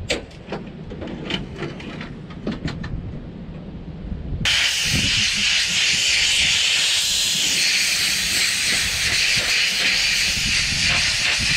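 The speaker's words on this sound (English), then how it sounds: "So we're just gonna blow out the radiator and the air filter" Compressed air gun blasting out a tractor radiator and air filter in a field, a loud steady hiss that cuts in suddenly partway through and holds, with lower engine rumble and clatter beforehand.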